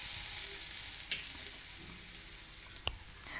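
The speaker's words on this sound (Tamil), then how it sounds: "சீரகப்பொடியும் மிளகு பொடியும் போட்டு லைட்டாக வதக்கிட்டு" Cumin and pepper powder sauté lightly in a pan with garlic, a soft, faint sizzle with a few stirring scrapes and one sharp tap.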